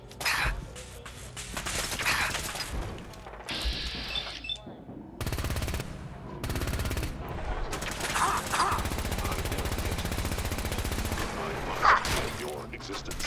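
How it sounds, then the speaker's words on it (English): A Gatling laser in Fallout 4 fires in long, dense bursts of rapid buzzing shots, loud and continuous with short gaps, while other combat noise mixes in. "I need to manually select the Gatling laser again"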